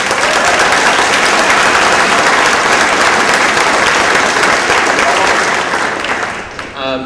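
A debate audience applauding loudly and steadily, a dense wash of clapping that fades near the end.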